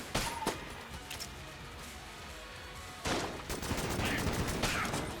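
Strafe gun fire in Enter the Gungeon, heard as a sharp burst of gunshots, a gap of quieter game noise, then a dense, noisy stretch of rapid shots and impacts with a crashing quality.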